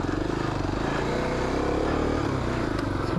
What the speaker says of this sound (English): So I'm on Will's KLX 250.